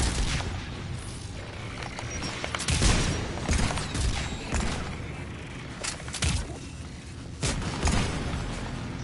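Gunfire in Mass Effect Legendary Edition: loud, punchy game gun blasts and booming hits recur in irregular bursts over a dense battle din, with no talking.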